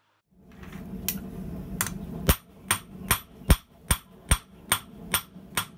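A forging hammer strikes hot metal repeatedly while making tinsnips, about a dozen sharp, ringing blows at a steady rhythm, close and loud over a low background hum.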